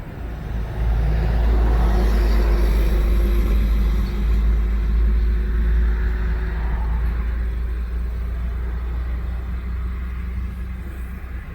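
A 1960 Oldsmobile 98 convertible with a 394 V8 drives along with a loud, steady low engine rumble and road noise that holds throughout, without speech.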